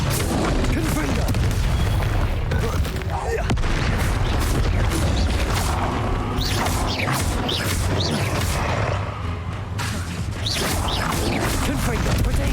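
Fiery blasting-spell explosions in Hogwarts Legacy boom repeatedly through a dense, loud battle din, heavy rumbling impacts and crashes layered with spoken voices throughout.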